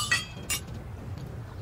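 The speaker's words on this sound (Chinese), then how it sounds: "来， 干杯。" Glasses clink together in a toast at a celebratory restaurant dinner, two bright chimes a moment apart, close and clear over a quiet room murmur.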